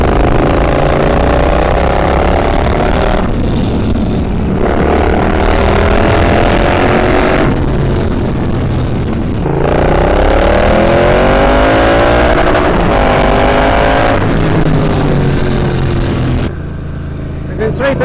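A Triumph Bobber motorcycle with a freshly rebuilt engine, ridden on a highway, drones loudly and steadily with rising and falling engine pitch and heavy wind rush throughout, then eases off near the end.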